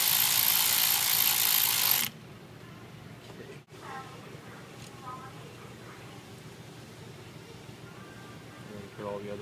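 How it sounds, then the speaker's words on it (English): For about two seconds a ratchet runs a bolt down on a Ford 6.0 Powerstroke, a loud, rapid, close buzzing of pawl clicks. Quiet workshop handling follows with a faint tap. "Run this bolt down, but not tight with the ratchet."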